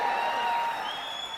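Audience applause and cheering in a hall greeting the film Bheema, a steady dense wash of clapping that fades slightly toward the end.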